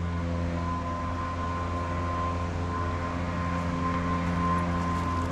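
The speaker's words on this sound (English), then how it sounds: "I apologize for the leaf blower." A leaf blower runs nearby outside a house, a loud steady drone with a constant whine held throughout without pause.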